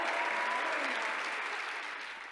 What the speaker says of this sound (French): est-ce qu'on peut applaudir Jésus ce soir